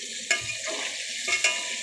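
Chicken pieces fry in hot oil with a steady, close sizzle, broken by a couple of sharp scraping or stirring knocks.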